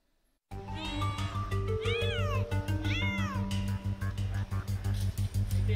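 Several cat meows rise and fall over a steady low hum and background noise, loud and close, repeating across the clip.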